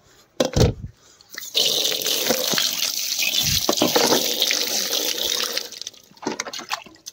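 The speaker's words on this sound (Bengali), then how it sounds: "তো সবার প্রথমে এই কোঁড়াটাকে আমাকে ধুয়ে নিতে হবে" Tap water runs and gushes steadily into a sink while a cooking pot is washed, with scattered clanks of the pot before and after the flow; no voices.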